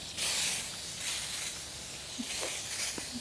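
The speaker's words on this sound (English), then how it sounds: "So I'm just gonna spray it on this area." A disinfectant spray bottle hisses onto a surface in several short bursts, airy and close against a faint background, with no talking.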